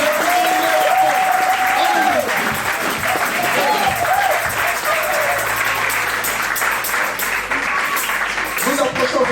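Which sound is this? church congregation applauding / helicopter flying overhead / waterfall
church congregation applauding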